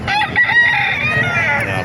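A rooster at a chicken market in Calumpit crows one long, loud, close call that fills the whole moment, with faint market bustle behind it.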